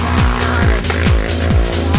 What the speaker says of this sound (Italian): tanto scoppio del motore